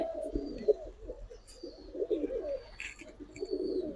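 Giribaz high-flyer and colored pigeons coo softly in low, rolling phrases, a few birds trading calls at moderate distance, with faint higher chirps and small knocks between them.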